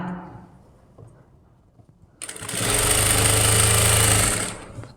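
A sewing machine stitches around the neck of a blouse, starting after a quiet moment of faint handling noise and running as a fast, steady motor whir for about two seconds before winding down.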